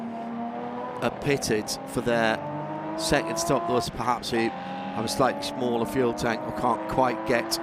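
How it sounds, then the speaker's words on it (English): Classic racing cars at the Spa round of the Le Mans Classic, including an Austin Healey 3000, their engines revving and burbling with passing bursts throughout, heard beneath continuous commentary. "You heard the Austin Healey 3000 making a wonderful burble."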